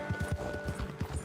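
Horse hooves in Red Dead Redemption 2 clip-clop in a quick, steady galloping rhythm, close and moderately loud for just over a second.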